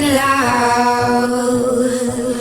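Synth pizzicato strings played clean without Saturn saturation, a sustained low note under a busy upper layer with gentle plucked pulses at a steady rhythm, fairly loud and close.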